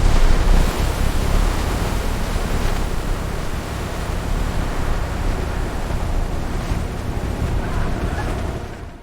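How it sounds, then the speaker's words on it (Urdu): Huge flood waves roar as a dense, continuous rush of churning water and wind, loud and unbroken throughout before easing slightly at the end. "لہریں پہاڑوں جیسی بلند ہو گئیں"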